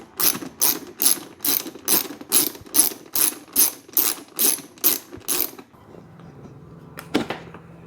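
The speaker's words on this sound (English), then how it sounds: "I'm going to take a 10 mil. We're going to take out the bolts." A ratchet with a 10 mm socket works bolts loose on a 2004 Honda CRF450R, giving about a dozen rapid, evenly spaced clicking strokes up close, followed by a faint scrape and a brief rattle as the work stops.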